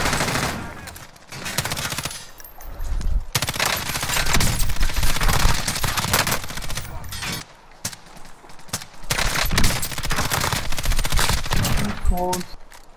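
Rapid video game gunfire rattles in dense automatic bursts, loud and close, pausing briefly between volleys, with a few short synthetic tones near the end.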